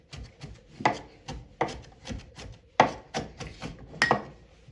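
A knife chops ginger for salsa on a wooden cutting board, with close, crisp strokes in an uneven rhythm of about a dozen cuts and no talking.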